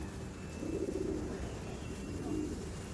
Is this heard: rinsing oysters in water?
no